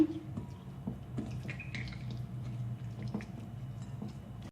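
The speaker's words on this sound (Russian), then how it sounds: "Можно вот так руками хорошенько распределить масло по филе." Hands rub vegetable oil over raw chicken breast fillets, making soft, wet squishes and faint slippery smacks close by, with brief quiet clicks of the kitchen in the background.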